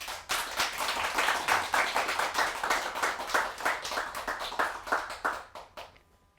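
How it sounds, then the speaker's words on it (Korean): Audience at a Buddhist dharma lecture in a public hall applauds to welcome the speaker, a dense, steady round of clapping from many hands that carries on for several seconds before stopping abruptly. "큰 박수로 보사님 맞이하겠습니다."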